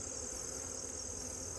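Honeybees at a hive in autumn give a soft, continuous buzzing hum, steady and close, with no voices over it.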